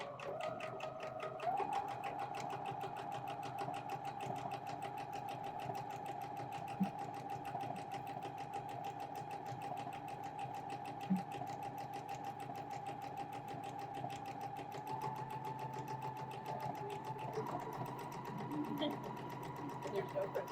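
A sewing machine runs steadily throughout while quilt pieces are stitched, a continuous motor whine close by with faint clicks, and people talk quietly over it.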